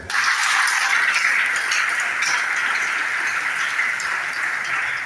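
A church congregation applauding in praise of the Lord, a dense, steady wash of many hands clapping together that holds for several seconds, loud and without speech.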